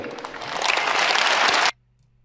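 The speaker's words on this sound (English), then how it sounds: "And the lemmings applaud." Audience applause from a played political recording, a broad, steady crowd clapping that builds and then cuts off abruptly, leaving near silence with a low hum.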